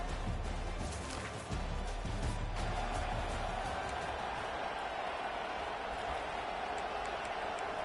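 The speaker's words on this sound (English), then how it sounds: "This crowd bringing the energy and noise early." A stadium crowd at a UCF versus Michigan State football game sends up a broad, distant roar that holds steady throughout at low level, with no clear talk on top.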